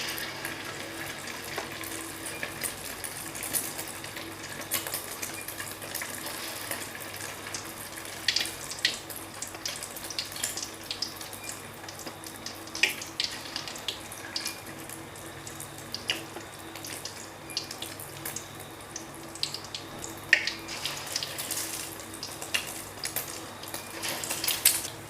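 Egg-coated fish patties (perkedel ikan pindang) fry in hot oil, a steady crackling sizzle with scattered pops and spits running continuously for about twenty-five seconds, close and moderately loud.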